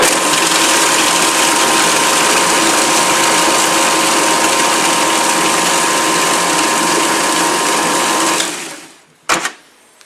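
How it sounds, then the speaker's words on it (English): Blender whirring loudly and steadily while blitzing a spice coating for chicken goujons, holding a dense constant roar for about eight seconds before cutting off, followed by a brief clunk. "This is the noisy part. It goes in there, blend them all together."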